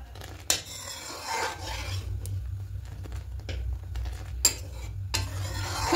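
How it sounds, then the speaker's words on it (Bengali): A spatula scrapes and rasps through boiling milk in a pot, the strokes coming in uneven bursts over a low bubbling rumble, close by with no voices. "এবার একটু খুন্তি হাতায় করে নেড়ে দেবো।"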